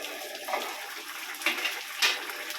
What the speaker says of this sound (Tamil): கொஞ்சம் தண்ணி ஊற்றலாம்.